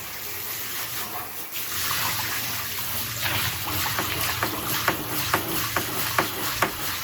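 Hot water sprays hard from a blasting nozzle onto a dryer lint filter, making a steady, close hiss with wet splashing and a run of sharp spurts toward the end.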